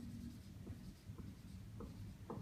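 A pen scratches faintly across paper while molecular orbital chemistry problems are worked out, with soft, irregular strokes over a steady low hum and no talking.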